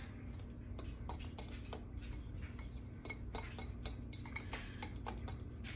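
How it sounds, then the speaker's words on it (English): A fork mixes red chili pepper flakes, dill weed and a coffee-based seasoning blend in a dish, making quick, repeated light clinks and scrapes in an irregular rhythm, close and fairly quiet. "grab yourself a fork, just give it a good mix"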